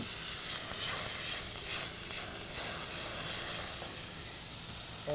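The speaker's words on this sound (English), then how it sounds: "I'm going to fry up that garlic." Garlic fries in canola oil in the pan meant for the rice, a steady bright sizzle and hiss running throughout with no talk.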